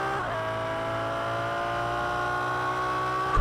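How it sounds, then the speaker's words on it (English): A Ferrari 355 engine in Project Cars 2 holds a high steady whine as the car passes under a bridge, loud and continuous with a slight upward pitch drift and no talk. "Around this last corner, you'll hear it under the bridge. Listen to the engine."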